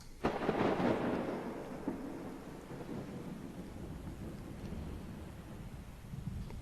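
A thunder sound effect in a song: a low, rolling rumble swells early, then fades into a steady hiss of rain, fairly quiet overall.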